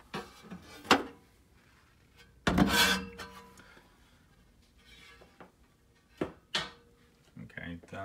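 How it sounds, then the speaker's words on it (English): The casing of an Esoteric K-03 SACD/CD player is opened by hand: a few quiet scrapes, rubs and sharp clicks of metal panels, close and sparse. "Let me crack it open so you can have a look."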